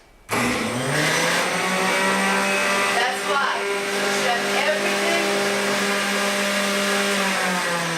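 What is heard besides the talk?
centrifuge juicer running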